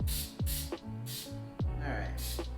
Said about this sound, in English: I'm just going to spray my pan with some Baker's Joy just to get it so that it will come out with ease.